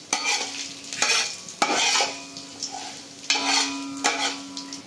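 Five-spice, bay leaf and dried chili fry in hot mustard oil, a steady sizzle broken by several loud stirring scrapes of a spoon against the pot.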